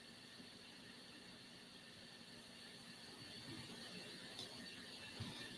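Left engine of a Beechcraft Baron cranking in the X-Plane flight simulator, a faint, steady mechanical whir and ratcheting drone held for several seconds under a constant tonal hum.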